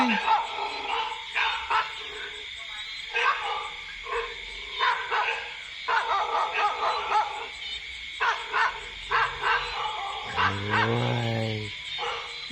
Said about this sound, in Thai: เห่าทำไมเห่าทำไมเห่าทำไม